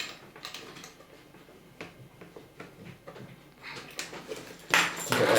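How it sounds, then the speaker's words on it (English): Soldering iron being unplugged from an 898BD+ soldering station, with scattered clicks and rattling handling noises, ending in a louder clatter. "So let's disconnect the soldering iron first."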